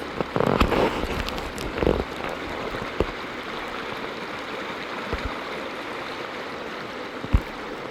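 Creek water flows and babbles steadily close by, with a few louder splashes and knocks breaking through the continuous rushing.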